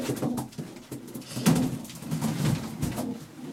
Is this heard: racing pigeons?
yes